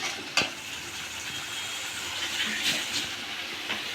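Spice paste with black cumin paste frying in a pan, giving a steady bright sizzle with a few scraping stirs, close and continuous with no talk.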